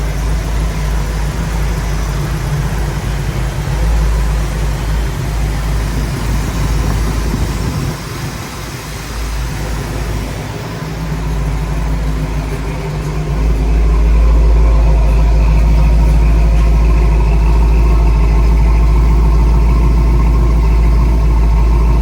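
A 1965 Buick Riviera Gran Sport's engine runs steadily close by, a deep continuous rumble that dips briefly in the middle and then grows fuller and louder toward the end.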